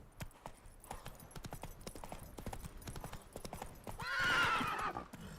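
Hooves of a horse galloping in the video game The Witcher 3, a rapid run of clip-clop beats followed by a loud neigh near the end, with faint game ambience behind.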